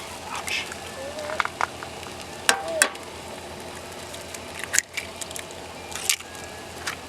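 Eggs fry in a smaller pan during camp cooking for a mountain man breakfast. A low, steady sizzle carries on beneath scattered clinks and sharp utensil taps.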